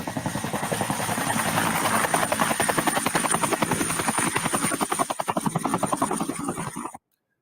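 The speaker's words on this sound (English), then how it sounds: "Click another button, bring down a helicopter." Loud, close helicopter rotor chopping in a clinical virtual reality simulation, a fast steady pulsing thud that holds throughout before cutting off abruptly.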